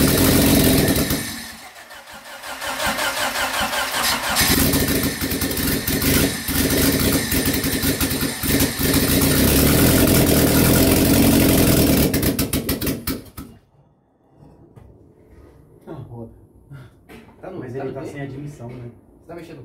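A 1993 Honda Civic engine, leaking a lot of oil, cranks and catches, then runs loud and rough for about twelve seconds before cutting off, leaving quieter clatter and voices talking nearby.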